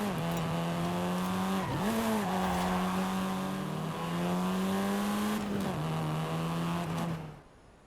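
A car drives in the Forza Horizon 5 video game in a Made in Mexico story linked to the Golf, its engine droning loudly and steadily with two brief dips as the revs shift, then cutting off at the end.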